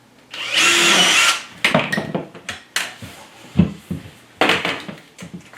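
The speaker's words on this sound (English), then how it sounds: "I'm going to go ahead and drill the other 2 holes" A power drill boring holes into a wall for a metal bracket, one long loud whirring burst followed by shorter stop-start revs and clattering handling sounds.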